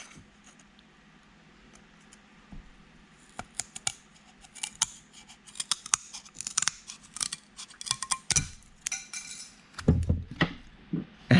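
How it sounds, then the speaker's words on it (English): Quiet at first, then a series of crisp snipping and crunching cuts as basic scissors cut carbon veneer, irregular and close, with a few louder clicks near the end. "to cut them, these are just pretty basic regular scissors"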